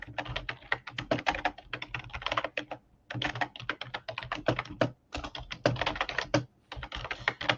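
Rapid, steady typing on a computer keyboard, clustered key clicks in bursts with brief pauses between words, close and clear, with no talking.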